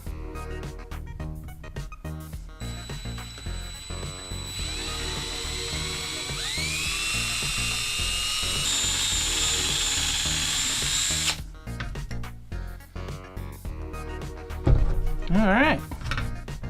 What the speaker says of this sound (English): So we'll just drill a hole for that.